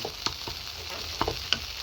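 Masala spices fry in hot oil in a pan for a dal curry, giving a continuous sizzle broken by a few sharp scrapes and clinks of a stirring spoon.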